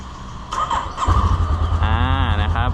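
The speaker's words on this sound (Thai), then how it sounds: "ลองฟังเสียง เครื่องกันดูนะครับ" A 2016 Honda CB500X motorcycle engine idles cold with a steady low rumble that grows louder after a moment, with a squealing whine joining in near the end.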